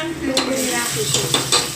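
Sliced onion sizzles in a pan with cumin and asafoetida while a utensil stirs it, steady frying hiss broken by several short scraping strokes against the pan.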